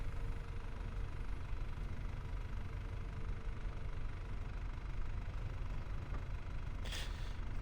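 Tractor engine in Farming Simulator 22 hauling a roller for field work, a steady low idle-like rumble running throughout at moderate level, with a brief brighter hiss near the end.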